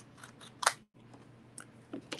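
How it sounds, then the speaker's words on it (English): Scissors snip through paper during a stamping craft, a few short crisp cuts with a sharper louder snip early on, close and quiet with no talk. "I'm just going to cut along here."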